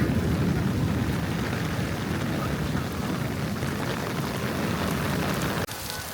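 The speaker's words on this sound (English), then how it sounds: "The rain suddenly got very heavy" Heavy rain pours steadily in China during the Dragon Boat Festival, heard from a shop doorway, a dense, loud hiss of drops hitting surfaces, constant throughout with a brief dip near the end.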